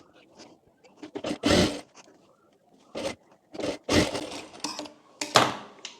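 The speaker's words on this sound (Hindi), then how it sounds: "यहाँ पर अभी के लिए हम एक सिलाई कर लेते, बाद में हम प्रेस कर लेंगे।" A sewing machine stitches the top of a co-ord set in short, uneven bursts of whirring, close by, separated by brief pauses and handling noises.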